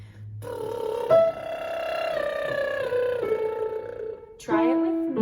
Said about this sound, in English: Switch to a buzz